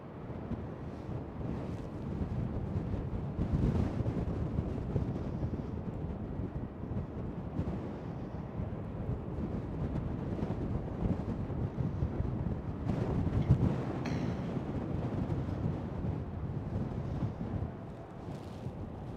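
Strong wind at Schiphol airport roars steadily across the microphone, a dense low rumble and hiss with occasional stronger gusts and faint distant aircraft noise, no speech.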